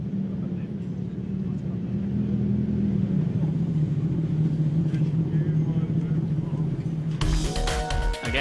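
Sidecar racing outfits sit on the grid at the Sachsenring for a race start, engines holding a steady loud drone that rises suddenly into a harsh, bright burst of revving as they set off.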